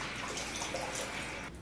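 Water splashes and trickles steadily at close range as a face is rinsed clear of cleanser at a sink, with a continuous soft wash of sound ending in a brief drop.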